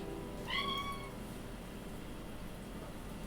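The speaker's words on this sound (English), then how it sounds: "That was an aggressive cat." A single brief, insistent cat meow rises sharply near the start, clear against a steady low background hum, then trails off into quiet room noise during a casual card game.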